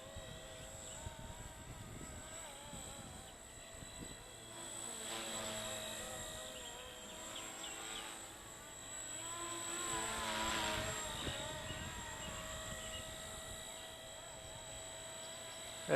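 An RC model helicopter, a Blade 230S with an MD500E scale body, flies steadily throughout, its rotor and motor whine holding even at moderate distance and swelling slightly as it passes closer.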